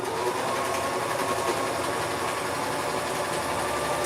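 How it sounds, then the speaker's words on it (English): A sewing machine runs continuously, sewing a seam on a T-shirt being downsized, with a steady, dense mechanical whir that carries on without pause. "now I'm gonna sew in just a little bit, pulling it over just a little bit so I can catch that hole."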